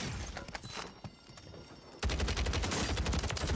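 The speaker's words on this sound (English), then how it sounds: "he's shooting at me" Rapid bursts of gunfire in Call of Duty Warzone on Rebirth Island, sporadic shots at first, then a loud, dense volley of automatic fire erupting halfway through and continuing to the end.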